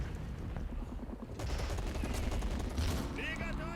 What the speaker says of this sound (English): And I have a mortar firing at my men.